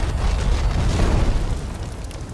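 A fireball spell bursts in the video game Divinity Original Sin 2: a loud, sustained boom with a deep rumbling roar that holds steady for a couple of seconds before easing slightly, with no voices.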